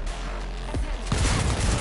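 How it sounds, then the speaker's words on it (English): Pistol gunfire in the video game Cyberpunk 2077, played on a PlayStation 4 Pro, comes as a few sharp shots, then a rapid cluster of bangs over a dense, busy game soundscape. "Just went mad with the gun there."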